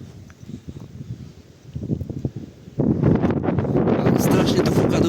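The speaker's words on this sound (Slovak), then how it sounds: "Strašne tu fúka, dúfam, že to nebude vadiť." Strong wind gusting outdoors in fresh snow, buffeting the microphone with rough low rumble that starts moderate and surges louder and more constant partway through.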